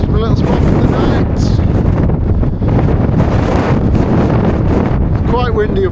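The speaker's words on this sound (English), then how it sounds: "It's quite windy up here" Strong, constant wind buffets the microphone on the exposed moorland of Kinder Scout in the Peak District, a loud roaring rumble throughout, with a voice speaking faintly beneath it.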